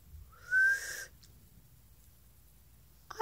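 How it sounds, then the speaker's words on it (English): A person whistles while inhaling, one short breathy rising whistle lasting about half a second, followed by near silence and a faint noise at the end. "now let's try and whistle in."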